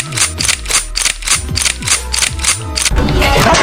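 Sharp gunfire effects crack out in a rapid, regular series of loud, close shots, each followed by a short ringing tail, before the sound gives way to a dense noisy burst at the end.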